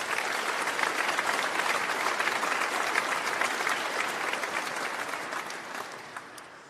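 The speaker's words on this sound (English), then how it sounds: "So I think they too also deserve a round of applause of thanks." Sustained applause from a large audience at a graduation ceremony, a dense, even wash of clapping that holds strong throughout and only slightly thins toward the end.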